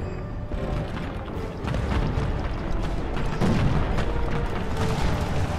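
Tank gun fire in War Thunder against a computer-controlled enemy tank, heard as a dense, continuous rumble of booms and blasts that fills the whole stretch with no talk.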